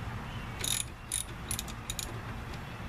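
A ratcheting wrench works on a wheel hub nut of a 2005 Hyundai Elantra, giving several short, bright metallic clicking bursts over a steady low hum in a workshop.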